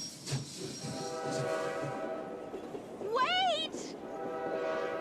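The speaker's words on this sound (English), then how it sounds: "My train is about to leave." A train whistle rises and wavers near the middle of a railway station scene in the video game Murder in the Alps, over steady station hum and rumble, with voices talking around it.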